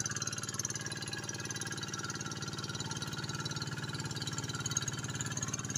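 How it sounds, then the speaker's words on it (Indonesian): A Quick G1000 hand tractor engine runs steadily while levelling a rice paddy, with a fast, regular chugging pulse, close and continuous throughout. "Proses perataan tanah lor dengan menggunakan traktor Quick G1000."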